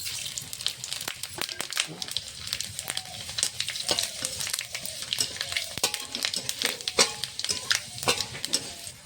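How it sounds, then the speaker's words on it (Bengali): Bay leaf, dried red chilli and panch phoron crackling in hot mustard oil in a kadai, a dense close sizzle with sharp pops and spatters throughout, faint talk in the background. "কড়াতে সর্ষের তেল দিয়ে দিয়েছি ফোড়ানোর জন্য দিয়ে দেবো তেজপাতা শুকনো লঙ্কা পাঁচফোড়ন"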